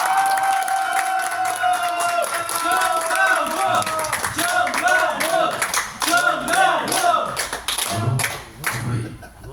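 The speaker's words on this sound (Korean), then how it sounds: "뜨거운 박수를 보내시기 바랍니다" An audience at a gathering applauds a pastor, with dense, steady clapping from a crowd that carries on for about ten seconds without a break.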